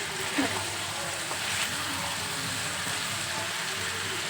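Stuffed brinjal masala frying in oil on low heat, a steady soft sizzle and crackle that continues evenly throughout with no talking.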